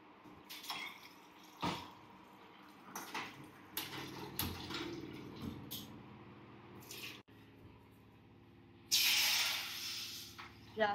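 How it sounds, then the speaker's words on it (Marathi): Quiet clinks and clatters of kitchenware, then a short rushing pour of water into a pan for Maggi noodles near the end. "पहिला आम्ही मॅगी मध्ये पाणी टाकणार आहोत। चल टाकूयात पाणी।"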